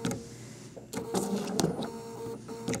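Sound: sewing machine stitching

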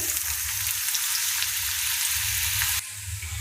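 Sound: vegetables sizzling in hot oil

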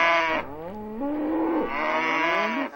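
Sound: cattle mooing, played sound effect during sermon

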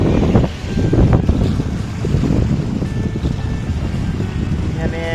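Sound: river water waves around a rowing boat

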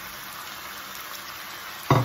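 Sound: fried vegetables added to sizzling masala in pan

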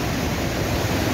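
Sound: waterfall at Cascada Escondida, Cochamó

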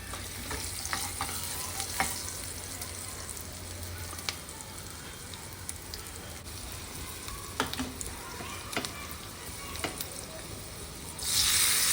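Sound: chopped garlic pieces frying in a pan

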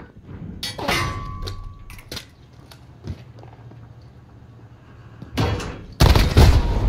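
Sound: one-shot pistol gunfire in Modern Warfare video game

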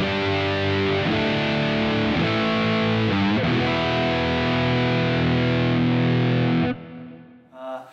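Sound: Gibson Les Paul Standard electric guitar, neck pickup, through THR amp

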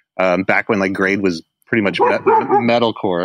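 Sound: dog barking

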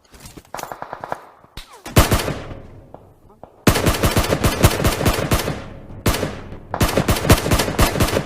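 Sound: video game gunfire

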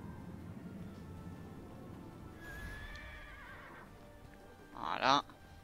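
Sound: horse neighing in Neverwinter video game

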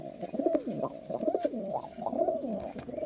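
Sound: pigeons cooing

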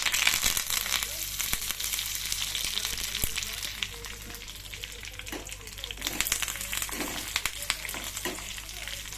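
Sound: mustard seeds and curry leaves frying in oil

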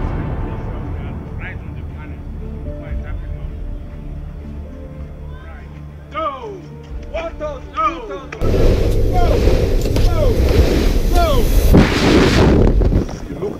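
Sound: military mortar firing a bomb

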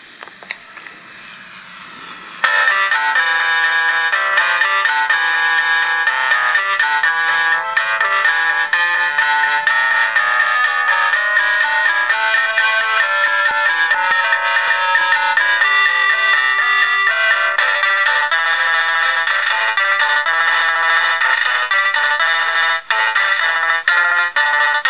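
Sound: Sony M200MC microcassette recorder playing back recorded music

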